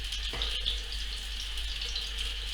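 Water pours steadily and continuously into a bowl of toad-in-the-hole batter mix made with egg, a close, even hiss with no talking over it.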